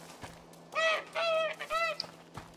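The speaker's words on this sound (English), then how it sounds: "I'm chasing the goose." A goose honks in the video game A Plague Tale: Innocence, three loud nasal honks in a steady rhythm, close by over a quiet background, with no talk.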